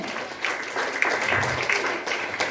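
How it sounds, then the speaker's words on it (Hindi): Audience applause at a Hindi-language gathering, a broad wash of clapping holding steady for a couple of seconds at moderate level, with faint voices mixed underneath. "इसके लिए जोरदार तालियां होनी चाहिए।"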